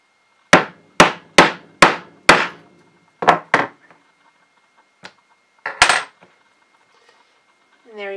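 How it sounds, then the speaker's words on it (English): A rubber mallet pounds a hole punch through material on a poly board: five sharp, evenly spaced close strikes, then a pair of hits, a faint tap and one last hard blow, with a brief voice at the end. "I'm going to be placing my material on a poly board, and then taking my rubber mallet"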